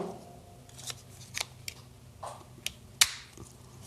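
A knife forced into a tight, stubborn Kydex sheath: several sharp plastic clicks and scrapes, close and fairly quiet, ending in one louder snap near the end.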